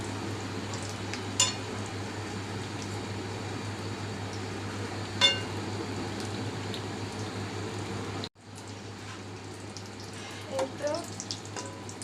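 Momos frying in hot oil as they are turned, a steady hiss and bubble with a constant hum underneath, a few sharp utensil taps, and a brief dropout partway through before the frying resumes.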